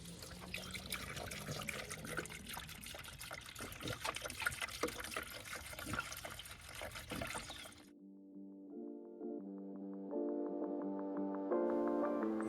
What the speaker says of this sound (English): we're using the Toyota 5050 pre-diluted super long life coolant. And here we go.